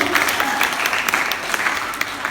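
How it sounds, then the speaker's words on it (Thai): An audience claps for a contestant at a beauty pageant, a dense, even round of applause from a crowd that holds steady throughout at a fairly loud level. "ขอเสียงปรบมือให้กับสาวงามไม้หนึ่งนะครับผม"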